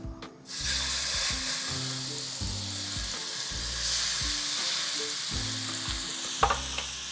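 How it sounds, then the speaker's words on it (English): Steak hits a lightly oiled pan after a brief silence and breaks into a loud, close, sustained sizzle that crackles and pulses steadily to the end. "Now you wanna take your steak and lay it straight down."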